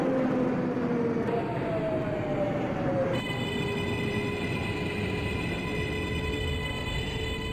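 An R142A 6 local subway train in the OpenBVE simulator runs steadily, with a continuous broadband rumble and sustained high tonal whines from the motors that shift in pitch partway through.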